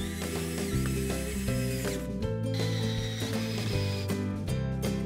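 Power driver sinking 3-inch screws into wood while building a timber frame for a lawn mower and yard tool storage caddy, a steady whirring drive with ratcheting clicks and a pitch shift partway through, no talk.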